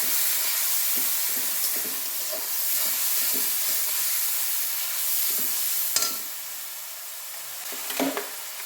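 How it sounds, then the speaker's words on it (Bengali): Cabbage and pumpkin curry with garlic frying in a pan, giving a steady broadband sizzle with occasional stirring scrapes and two sharper clatters near the end, close and unbroken. "এখন ভাজি করলাম বাঁধাকপি কুমড়া তরকারি"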